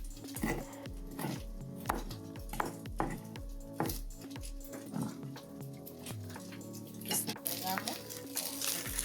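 A knife cuts sausage into rounds in a home kitchen for a lentil soup with bacon, a regular series of crisp chopping taps against a board that fades into quieter kitchen clatter.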